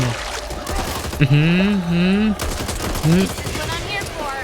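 Rapid gunfire crackles in the zombie shooter game Back 4 Blood, with bursts of shots mixed with tonal, voice-like sounds over a busy game background.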